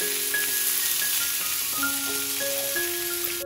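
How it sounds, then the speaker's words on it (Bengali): Steady hiss of potatoes frying in onion-flavoured oil, continuous and even throughout, with a few faint tonal whines in the background. "আলুটা একটু ভাজা করে নেবো এই পেঁয়াজের তেলের সাথে"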